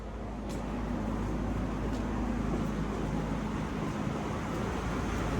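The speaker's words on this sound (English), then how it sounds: "We have the fan running." A fan running in a deep basement during the rescue of a 1932 Frigidaire refrigerator, giving a steady, even whooshing drone with a low hum throughout and a few faint clicks.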